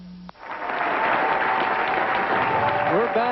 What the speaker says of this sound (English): An enthusiastic crowd waving and shouting.